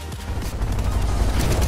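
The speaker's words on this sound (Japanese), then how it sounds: "サブマシンガンの銃声が開かれてる中、さあ周りのみんなを倒していきます。" Rapid gunfire from a submachine gun and shotgun in the Fortnite battle royale video game, a dense continuous barrage of loud shots with booming low end throughout, no voices.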